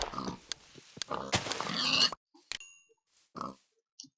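Minecraft pigs oinking in a survival game, several short grunting snorts in quick bursts over the first two seconds, then a few isolated oinks with quiet gaps between them.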